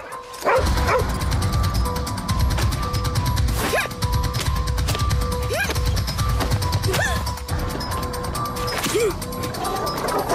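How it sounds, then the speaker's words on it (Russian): Several dogs bark loudly and repeatedly in an irregular, overlapping chorus, with yips and whimpers mixed in over a continuous background of clatter. "Собаки"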